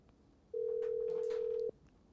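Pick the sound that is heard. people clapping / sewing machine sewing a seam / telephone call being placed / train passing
telephone call being placed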